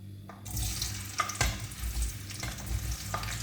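Onions fry in a pan while chicken liver is being cooked, a steady close sizzle broken by scraping and stirring clatter, with no talk.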